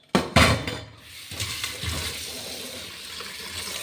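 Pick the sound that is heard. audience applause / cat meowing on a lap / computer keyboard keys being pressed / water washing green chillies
water washing green chillies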